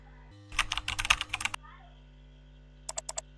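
Typing on a computer keyboard while building an organizational chart in Word: a quick run of close, crisp key clicks, then a short pause and four more evenly spaced taps, with faint hum underneath.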